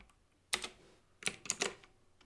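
Short clusters of keystrokes on a computer keyboard with a US layout: a single sharp tap, then a quick run of three or four clicks, close and crisp with quiet gaps between.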